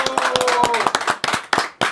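A small audience clapping on a comedy show stage, a quick run of distinct, close hand claps with uneven rhythm over about two seconds.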